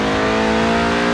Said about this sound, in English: Right then, the Lotus Elise, a 90s classic based on the age-old roadster recipe.